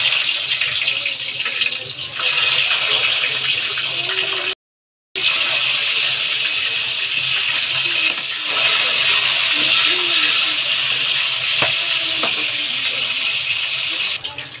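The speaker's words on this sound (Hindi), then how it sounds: "अब हम इसमें बैंगन को डीप फ्राई करेंगे थोड़े थोड़े" Eggplant (baingan) pieces deep-frying in hot oil, a loud, steady sizzling hiss that runs on almost without a break and stops once for a moment.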